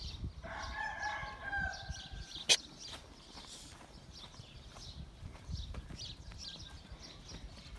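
A rooster crows once nearby, a drawn-out call, amid faint outdoor clucking, scuffing and a brief sharp knock.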